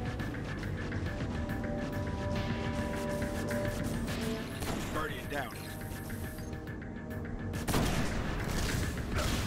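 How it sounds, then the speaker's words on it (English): Rapid gunfire and booming impacts from a boss fight against Sekrion, Nexus Mind on Venus in Destiny, loud and continuous throughout, with a sharper burst near the end and someone talking over the shooting. "Alright, he's shooting at me"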